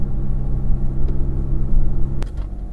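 A 2016 Mazda 6 Touring sedan with a 184-horsepower engine drives and accelerates, a steady loud low engine rumble and road drone from inside the car, with a brief click partway through.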